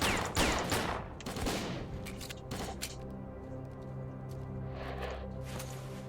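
Bursts of AK rifle fire in a video game, loudest at the start, with scattered shots and shuffling game sounds trailing off beneath a low steady background hum.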